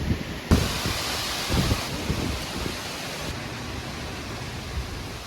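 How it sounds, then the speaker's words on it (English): Storm wind roaring as a storm arrives, a loud broad rushing noise with gusty buffeting against the microphone throughout. "storm just came in."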